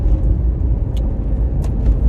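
A cheap used Land Rover Freelander pulls away, its engine and road rumble steady and close throughout, with a couple of brief high squeaks on top.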